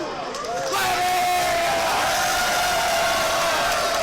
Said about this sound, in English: The crowd cheers. They're loving it.